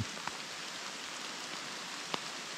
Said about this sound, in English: If it keeps pouring like this, I'm gonna be screwed.